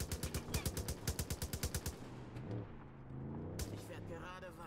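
Gunfire in the video game Far Cry 5 rings out as a rapid burst of about a dozen evenly spaced loud shots, then a later shot or two amid game noise and someone talking.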